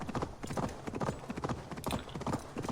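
Horse hooves clip-clop in a steady, fairly close rhythm throughout, the mount trotting along in the video game Assassin's Creed Valhalla.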